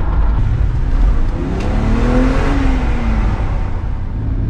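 A BMW 325ti engine revs loudly and continuously up close, with a throaty intake roar rising and falling.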